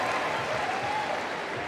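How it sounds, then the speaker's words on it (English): A circus crowd applauds performer Ashley Vargas at the last-ever Ringling Bros. show on Long Island, a brief, thick, sustained roar of clapping heard from within the audience. "Please, a round of applause for the lovely and super talented Ashley"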